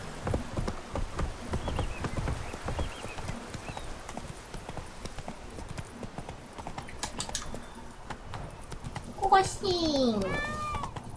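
Roach, the horse in The Witcher 3, gallops with rapid, rhythmic hoofbeats that pound steadily throughout. A high-pitched voice and a brief whinny-like cry rise near the end.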